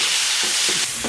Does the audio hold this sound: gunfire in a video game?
no